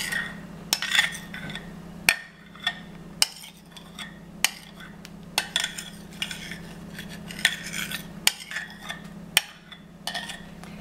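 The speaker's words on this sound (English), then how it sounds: "And just fold it in." A utensil folds whipped cream into an eggnog mixture in a bowl, giving soft swishing and scraping with sharp clinks and taps against the bowl at irregular intervals, close and quiet.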